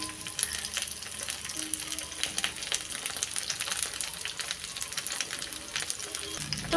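Chicken shashlik kebab sticks fry in a pan with a steady, fairly quiet sizzle and crackle of oil, continuous throughout with small spitting pops.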